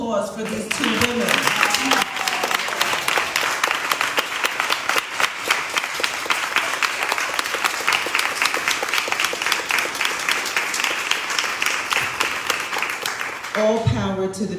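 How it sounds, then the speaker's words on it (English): Extended round of audience applause at a Juneteenth program, dense steady clapping with a few voices at the start and end. "I'm going to ask for one more round of applause for these two women."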